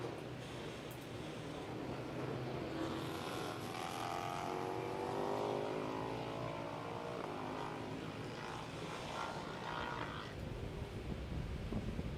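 Race cars on a circuit sweeping through a turn, engines droning and rising in pitch as they pass at a distance, a continuous layered roar of several cars without talk.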